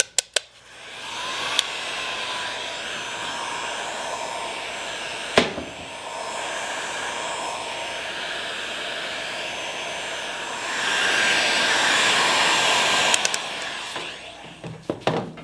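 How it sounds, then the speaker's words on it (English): A heat gun blows a steady hot-air whoosh over an adhesive-backed car emblem, moved in swirls, with a few sharp clicks and knocks and a louder surge of airflow near the end. "I'll just use the heat gun, swirl it around, make sure you don't keep it in one place for too long"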